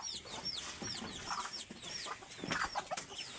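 Native farm chickens cluck in short repeated calls, fairly close but faint, with several birds overlapping in a quiet coop.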